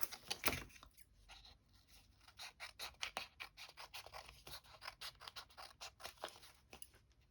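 Small scissors trimming paper for a junk journal, a quick run of crisp snips and light scratchy cuts in an irregular rhythm, close and fairly faint with no talking.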